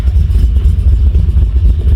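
Toyota Troop Carrier fitted with a Chev engine, idling while parked: a loud, close, steady low engine rumble with a slightly uneven throbbing, continuous and without any talking.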